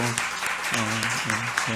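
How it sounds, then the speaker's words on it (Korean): A church congregation at a Sunday worship service claps in congratulation, a brief burst of applause mixed with a voice talking and harmonic vocal tones over it. "우리 박수로 축하한다고."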